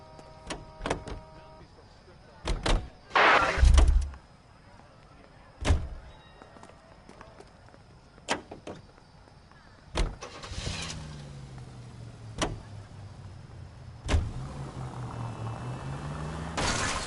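Car sounds in a video game: sharp door clunks and thuds scattered through, a burst of mechanical whirring, then an engine starting and humming steadily at a moderate level.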